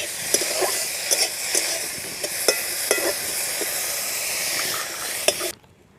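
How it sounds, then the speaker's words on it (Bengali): Prawns fry lightly in oil in a pan on a home stove, a steady close sizzle broken by sharp clicks as they are stirred, then a sudden cutoff near the end, no talking. "চিংড়ি মাছ হালকা একটু ভাজবো, বেশি ভাজলে চিংড়ি মাছ শক্ত হয়ে যায়"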